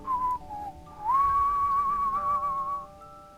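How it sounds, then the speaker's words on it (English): A person whistles a steady, wavering tune, one held melodic line with a short break near the start, fairly close and clear over faint background noise. "a lumberjack named Dave was wandering whilst whistling and watching out for wildlife."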